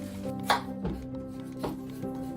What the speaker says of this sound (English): We'll start peeling and chopping.